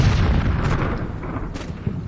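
100mm artillery rounds bursting in woods behind a village in Combat Mission Black Sea: a continuous low rumble of distant explosions with a few sharper pops, fairly loud and without talk.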